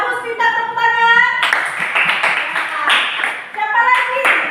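Classroom applause for a student, a dense burst of many hands clapping that swells after a short pause and carries on under children's voices and chatter.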